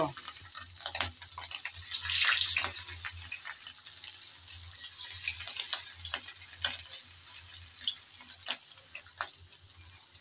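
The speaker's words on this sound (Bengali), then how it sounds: "গরম তেলে আমি একটা একটা করে মাছ ছেড়ে দেব" Hilsa fish fry in hot oil in a pan, giving a continuous close sizzle dotted with small crackles and pops, louder in the first few seconds.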